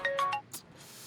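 A mobile phone rings for an incoming call, with a few quick melodic electronic notes followed by a brighter chime that fades out, close and clear with no voices.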